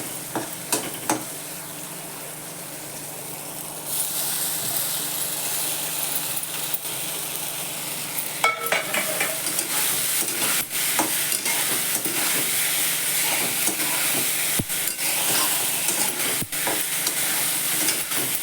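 Puffed rice and green peas stir and fry in hot oil, a steady sizzle with scraping spatula strokes and occasional metallic clinks against the pan, continuous and close.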